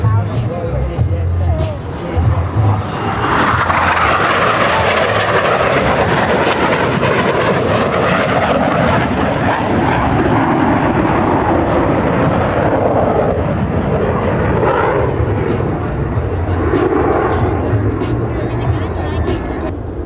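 U.S. Navy Blue Angels jets roar loudly over an air show crowd, a sustained broadband rush that swells and fades over about twenty seconds while a crowd murmurs beneath it.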